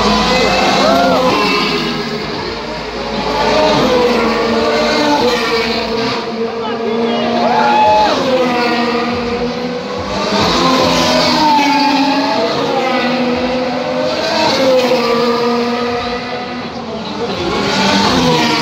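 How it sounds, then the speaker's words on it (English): Formula 1 cars racing at the 2018 Singapore Grand Prix, a steady engine whine running throughout beneath continuous, loud commentary. "If Lewis Hamilton can get down to turn one, he will control this race and will set the pace."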